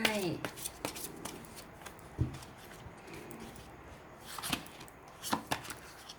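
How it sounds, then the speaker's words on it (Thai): Tarot cards slid and shifted across a tabletop during a reading, soft scattered papery swipes and light taps, close and quiet. "ยัดเลื่อนไพ่นิดหนึ่งนะคะ จะได้วางอีกหนึ่งแถวได้"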